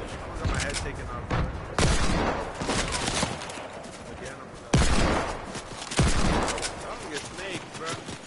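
Shooter video game gunfire with dense, sustained volleys and bursts, loud and close, broken by a few heavier blasts, while voices talk over the action.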